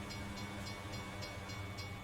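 A train rolling by in American Truck Simulator, set in Montana near Columbia Falls: a steady low rumble with faint rhythmic clacking, fairly quiet and continuous, no voices.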